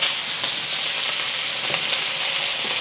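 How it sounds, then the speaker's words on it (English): Beef sears in a tablespoon or two of hot oil in a pan, a steady, dense sizzle with faint crackles and pops, close and even in loudness for the whole stretch with no voices. "We're gonna get our beef going. I'm gonna let it sear for about a minute."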